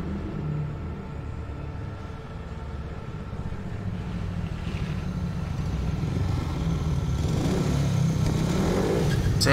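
Speedway motorcycles rev hard in the FIM Speedway 15 racing game: a dense, buzzing engine roar that holds steady and then swells louder toward the end, with no voices over it.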